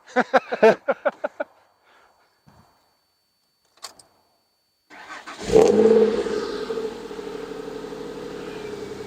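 A Ford Mondeo ST220 Estate with a full stainless exhaust system cranks and fires up, a short burst of starter churning followed by a loud catch and flare of revs, then settling into a steady close idle.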